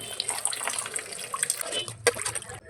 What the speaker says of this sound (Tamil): ரசமுக்கு தேவையான அளவு தண்ணி சேர்த்துக்கோங்க